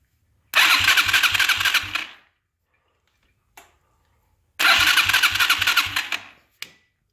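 A Chinese four-wheeler ATV being started: the engine cranks and catches twice, each time sputtering in a rapid pulsing beat for about a second and a half, then cutting out, followed by brief clicks in the quiet gaps.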